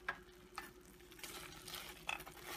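Nuts and raisins being stirred into beetroot halwa, a spoon scraping and clinking against the pan in a few separate strokes over a faint sizzle.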